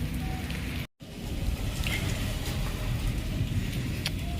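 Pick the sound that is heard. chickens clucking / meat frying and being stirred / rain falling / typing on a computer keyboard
rain falling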